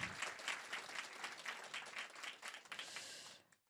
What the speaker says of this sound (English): Yes, give Sabrina a clap.